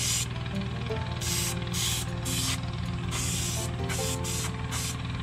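Spray can puts a thin coat of silver paint onto a wood carving of a black crappie in repeated short hissing bursts over a steady background hum, close and fairly loud.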